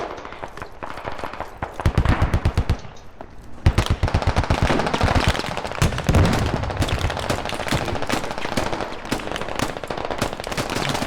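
Rapid bursts of automatic gunfire in the video game Squad crackle loudly, with dense volleys and scattered single shots continuing throughout.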